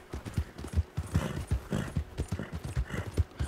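Horse hooves clip-clopping at a steady walking rhythm in Red Dead Redemption 2, close and fairly quiet, with no talking, while the horse is ridden at high speed.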